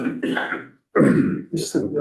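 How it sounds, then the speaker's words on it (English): A person's allergy cough during a House Appropriations committee session: a few rough, close coughs and throat clearings in quick succession, with a brief pause between bursts. "an allergy cough"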